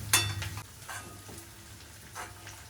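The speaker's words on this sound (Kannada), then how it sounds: "ಕರಿಬೇವು ಮತ್ತು ಬೆಳ್ಳುಳ್ಳಿ ಹಾಕ್ತೀನಿ ಇವಾಗ ಸ್ವಲ್ಪ ಬೆಳ್ಳುಳ್ಳಿ ಕೆಂಪಗಾಗಲಿ" Curry leaves and garlic frying in hot oil, a steady sizzle with a sharp crackling burst as they drop in, then softer bubbling and a few stirring scrapes; no one talks.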